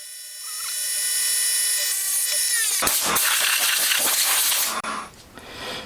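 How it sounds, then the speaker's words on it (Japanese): The intake port hole of a cast intake manifold is cleaned out during a four-cylinder CD125 engine build for a Honda Monkey. A steady high mechanical whine gives way to loud, harsh grinding and cutting noise that runs to the end. "次は吸気口の部分の穴をきれいにしていくんですが"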